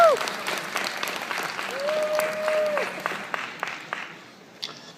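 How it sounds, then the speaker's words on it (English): Audience applause at a convention panel, dense clapping from a crowd that starts loud, holds for several seconds and then thins out and fades, with a brief voice heard over it. "let's give them a big round of applause"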